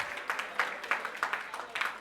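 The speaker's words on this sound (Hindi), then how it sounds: "एक बार इस बच्चे के लिए जोरदार तालियां बजा दो" Students in a CA Foundation quantitative aptitude class clap for a classmate. A small group claps in a quick, regular rhythm, fairly faint and slightly distant.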